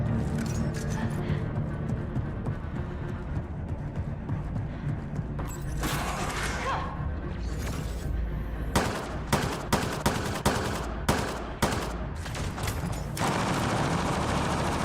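Gunfire in Mass Effect: Andromeda comes in bursts and rapid volleys of shots with mechanical clatter, loud and dense through the second half.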